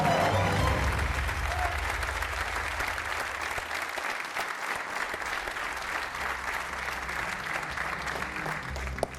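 A studio audience on a Portuguese television game show applauds steadily and loudly, with dense continuous clapping filling the whole stretch.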